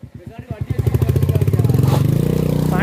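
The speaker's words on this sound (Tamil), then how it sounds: "வண்டியை மேலே ஏத்துறோம்." A vehicle engine labours uphill on a rough off-road hill track, with rapid pulsing revs that climb and settle into a strained steady drone, close and loud, with some clatter.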